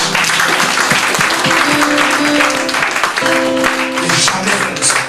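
A church congregation bursts into loud, sustained applause praising the Lord, many hands clapping at once. A voice is faintly heard through the clapping.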